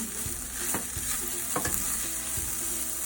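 Masala paste for coriander rice is stir-fried in a pan, with a steady bright sizzle beneath repeated spatula scrapes and clicks at an uneven pace, close and continuous.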